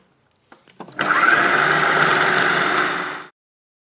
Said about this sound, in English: And now I'm going to add some parsley just so that you can see how well it keeps chopping.